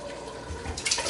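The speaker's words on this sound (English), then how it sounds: "Now, I gotta pour in the tomatoes." Canned tomatoes pour into a pot for marinara sauce, making a short wet splashing and glugging sound that builds toward the end.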